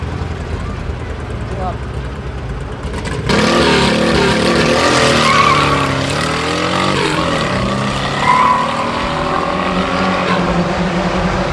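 At a drag race, a Chevrolet Vectra with a 2.2 or 2.4 engine launches against a VW Beetle. Quiet background gives way to a loud roar of engines whose pitch climbs and drops through the gears, with voices talking over it.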